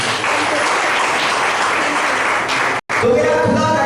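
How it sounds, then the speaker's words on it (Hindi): A church congregation claps loudly and steadily for several seconds, a dense close wash of applause that breaks off briefly before resuming with a voice speaking over it. "और जोरदार यीशु मसीह के लिए ताली बजाएंगे।"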